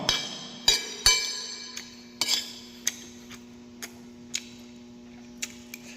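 A spoon clinks sharply against a glass while coffee is stirred, a dozen or so bright, close taps at an uneven rhythm over a faint steady hum, the early strikes loudest.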